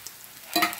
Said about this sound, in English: we do not want the taste of burned garlic in there, but we do want the oil infused